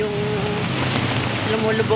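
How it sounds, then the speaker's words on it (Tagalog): Heavy typhoon rain pours steadily, a dense, even hiss without a break, with a voice faintly mixed under the downpour. "ang lakas pa rin ng ulan"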